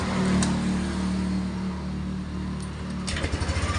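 A 2022 Yamaha NMAX scooter, previously failing to crank, is turned on with a short electrical hum, then the engine fires near the end and settles into a rapid, close idle.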